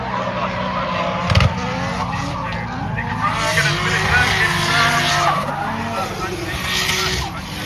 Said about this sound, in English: Here's my favourite drift car, the BMW estate.